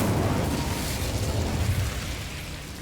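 Incendio fire spell cast in Hogwarts Legacy, a loud whooshing burst of flame that roars steadily and then tapers off, with no talking over it.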